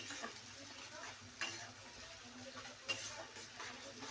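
Onions frying in a pan hiss softly and steadily, with a couple of light scraping stirs, quiet and with no voices.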